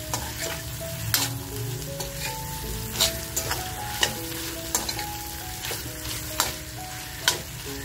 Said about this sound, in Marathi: वाटी आपल्याला आहे ना ह्या मसाल्याबरोबर अशी खमंग परतवून घ्यायची आहे